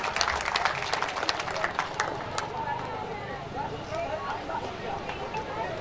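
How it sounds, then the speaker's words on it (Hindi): An audience applauds to welcome a minister at a central university's foundation day event. The clapping is dense and fairly loud at first, then fades into a softer crowd murmur. "श्रीमान कौशल किशोर जी, तालियों के साथ एक बार उनका स्वागत करें।"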